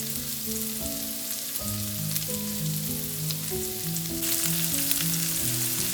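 A hamburger patty sizzles and fries in a pan, a steady crackling hiss with a faint tonal hum underneath, rising slightly louder toward the end, with no talk.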